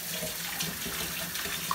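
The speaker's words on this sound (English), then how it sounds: "You open this faucet na" Water runs steadily from a kitchen faucet into a sink during dishwashing, a soft continuous hiss and splash that stays even throughout, with no talk.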